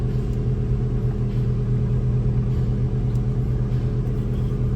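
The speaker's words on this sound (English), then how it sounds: "Fans blow perfectly." The heater fan blower in a 1966 Buick LeSabre convertible runs with a loud, steady, low droning hum. It holds an unchanging tone from start to finish, with no speech.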